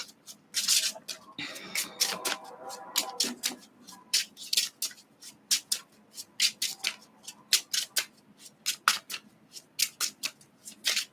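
Tarot cards shuffled and riffled by hand during a reading, a run of crisp, rapid flicking and rubbing bursts, close and fairly quiet, with no talking.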